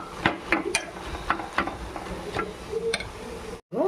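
Chopped tomatoes frying in a pan for coriander tomato chutney: a low, steady sizzle runs under a series of sharp, irregular spatula clicks and taps against the pan, then cuts off abruptly.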